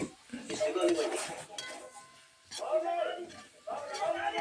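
A spoon scrapes and clanks against a pot while crab curry with chilli powder and turmeric is stirred, a few bursts of metallic clatter under someone talking.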